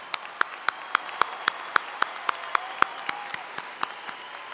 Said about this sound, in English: Will all of our graduates please stand for a round of applause?